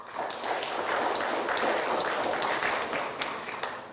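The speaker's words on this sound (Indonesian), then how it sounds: "Berikan tepuk tangan yang meriah untuk Kabupaten 50 Kota." An audience in a TV studio applauds during a children's Quran quiz final, with dense, steady clapping and sharp individual claps sustained throughout at moderate loudness.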